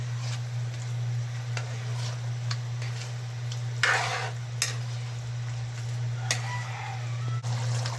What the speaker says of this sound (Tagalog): Halo lang mga master para hindi masunog ang ilalim.